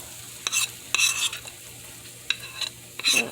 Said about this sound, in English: and wait for the sizzle.